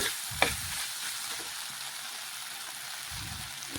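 Previously fried broccoli and mixed vegetables being turned over in a hot pan: a continuous sizzle with a couple of thumps and clattering scrapes of the spatula, one near the start and one near the end.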